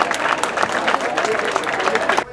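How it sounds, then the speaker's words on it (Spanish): Dense applause from a crowd at the opening of a town's July festival parade, steady and sustained for a couple of seconds before cutting off abruptly. "Le brindamos un fuerte aplauso."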